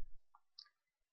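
A computer mouse double-clicks during form data entry: two faint, quick clicks about a quarter second apart in a quiet room, then silence.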